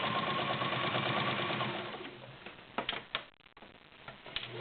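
A Kenmore model 1755 sewing machine stitches through 11 layers of lined drapery fabric, its rapid ticking needle rhythm loud for about two seconds, then slowing and stopping into scattered clicks and handling noises.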